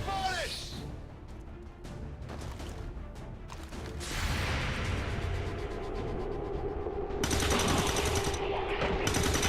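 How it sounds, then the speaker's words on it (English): Gunfire in the video game XCOM 2 War of the Chosen crackles in rapid bursts and volleys with crashing impacts, fairly loud and mixed with game effects, while a person talks over it. "Excellent shooting."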